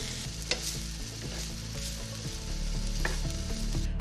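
Lardons frying in a pan for a pumpkin and sweet potato velouté, a steady close sizzle with crackle and occasional pops and scraping stirs, rising slightly toward the end.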